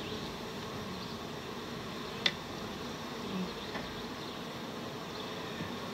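Honeybees hum steadily around an open hive being split into a new box, a soft continuous buzz with a brief sharp knock partway through.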